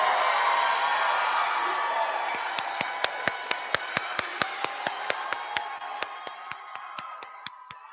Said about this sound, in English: Let's give a round of applause for all of the Virtual Academy graduates.